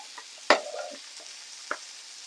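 Sweet and sour meatball sauce with plenty of onion cooking in a pan, heard as a close, soft sizzle with a sharp stir or scrape of a utensil near the start and another lighter clack later, no talking.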